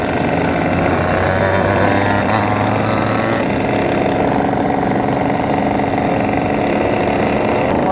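Two-stroke motorcycle engines, including a Yamaha 125Z, run loud and close in a continuous buzzing drone, with a steady low hum that drops away partway through while the raspy engine note carries on.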